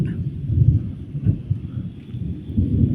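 Thunder rolls through a steady evening rain, a low continuous rumble with brief swells, heard alone at close, fairly loud level.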